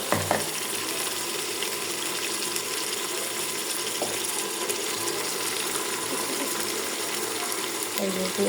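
Beef sizzles and fries in a pan with ginger, cumin and garlic paste, a steady close crackle with occasional scraping from stirring.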